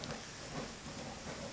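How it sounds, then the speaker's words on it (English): Steady rain in Euro Truck Simulator 2, a soft, even hiss of falling drops on the truck, continuous and moderately quiet with no voices. "Oh, the rain has started."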